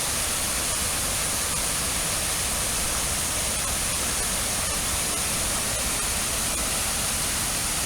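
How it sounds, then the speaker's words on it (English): River rapids rushing through a wooded setting, a dense, constant roar of whitewater that fills the whole stretch evenly and loudly, with no speech over it. "it leads down to the beautiful rapids here"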